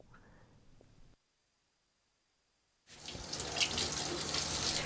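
A tap runs for rinsing hair, a faint trickle of water that stops briefly before the flow returns stronger as a steady, close gush.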